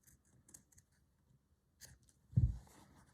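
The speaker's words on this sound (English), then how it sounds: "I have my bigger scissors with me." Large fabric scissors cut fabric for an abstract pear shape in a slow-stitch project. Close, quiet snips and rustles come sporadically before one louder handling thump.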